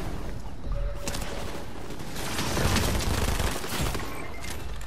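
Rapid gunfire aimed at a boss during the Doom Island event in Fortnite, a steady dense crackle of automatic shots with a few louder bursts, moderately loud and with no talking over it.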